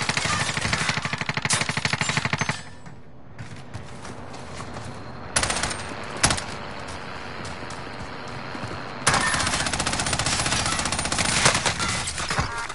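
Rapid automatic gunfire from a PS4 shooter game rattles loudly in dense bursts, with a pause, a couple of single heavy shots, then another long sustained burst.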